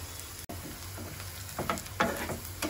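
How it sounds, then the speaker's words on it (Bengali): Sliced onions sizzle in hot oil for a Bengali prawn malaikari, a steady close hiss broken by a few louder stirring scrapes and crackles toward the end. "এখন আমি পেঁয়াজগুলো তেলে হালকা হলদে করে ভেজে নিব আস্তে আস্তে।"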